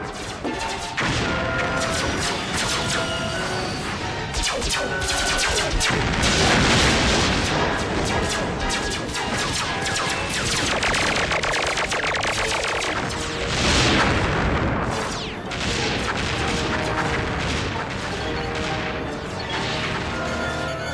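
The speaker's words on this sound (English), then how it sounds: "Longfeather, lay down covering fire on the crater rim. Get the fusion mortars up here, now!" Cartoon battle din of continuous gunfire and heavy fusion mortar blasts, loud and dense throughout, with booms and crashes layered over a sustained roar and no clear pauses.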